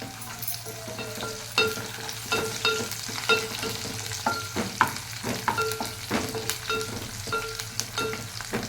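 Mustard seeds and spices tempering in hot oil for tomato rasam, spluttering with steady crackles and sharp pops over a constant sizzle, close and moderately loud with no talk.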